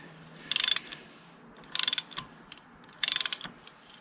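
A ratchet wrench tightens a part on a 1994 Triumph Sprint 900 motorcycle, three quick bursts of rapid clicking, each about a quarter second long, close and clear with short pauses between.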